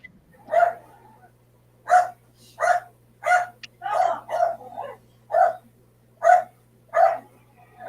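A dog barks repeatedly at a steady pace, about ten sharp barks close by, with a faint low hum underneath.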